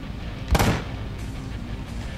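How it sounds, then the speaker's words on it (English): A motorbike blown up with explosives in the Ride to Hell video game: a single sharp, loud blast burst that decays quickly over a steady low rumble of game background. "So that's how you detonate a bike with explosives."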